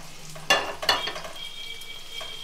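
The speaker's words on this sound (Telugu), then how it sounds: "నేను తక్కువ వేసుకున్నాను కిస్మిస్, ఇందులోనే ఈ నెయ్యిలోనే ఖర్జూరం కూడా వేసేసుకున్నాం." Dates and raisins frying in ghee for a homemade dry fruit sweet give a soft, close sizzle, with two sharp clinks of a spoon stirring early on and a thin steady tone later, without speech.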